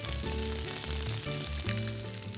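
Mushrooms, peas and chopped carrots sizzle steadily in a hot pan, a continuous close frying hiss with low background tones and no talking.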